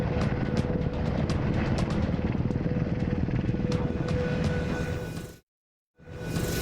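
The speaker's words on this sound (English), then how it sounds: "Leonardo da Vinci, would love to fly this helicopter" A military helicopter thunders close by with steady rotor chopping and a turbine whine, loud and continuous, then cuts out briefly before the engine roar returns.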